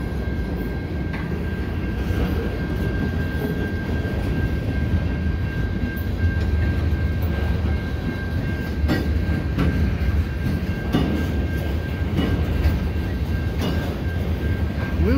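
CN transfer freight train passing at night in light rain on Des Courcelles Street, a steady loud rumble of rolling railcars with faint clicks from wheels over rail joints throughout.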